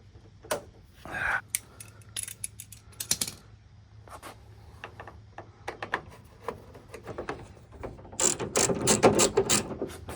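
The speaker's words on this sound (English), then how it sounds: "Taking the latch off to get the handle on." A screwdriver working a door latch loose on a Honda Civic EG, with scattered metallic clicks, taps and ratcheting scrapes at an uneven pace that build into a busier rattle near the end, with no talk.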